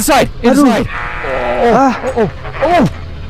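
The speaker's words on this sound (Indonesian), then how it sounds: "domba itu adalah domba yang sangat mengerikan dan berusaha menyerangnya" Sheep in the Minecraft video game bleat in a series of wavering, nasal calls, several loud cries rising and falling close by with a steady low hum between them.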